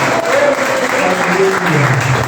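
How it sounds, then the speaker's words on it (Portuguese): A church congregation applauds during a Portuguese-language family worship service, a steady, dense wash of clapping held at an even level throughout, with a faint tone and voices beneath it. "Você pode aplaudir o nome de Jesus."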